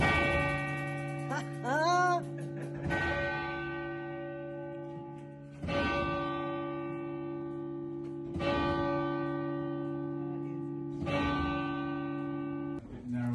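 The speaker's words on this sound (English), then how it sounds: "you can see the mechanism that rings the church bells." Large church bells in a church tower in Cirencester, England, toll repeatedly with long ringing overtones, each strike blooming and fading into the next, loud and close.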